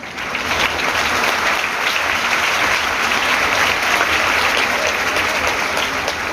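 An audience gathered in a temple for a religious discourse breaks into loud, even applause that holds steadily throughout with no voices over it.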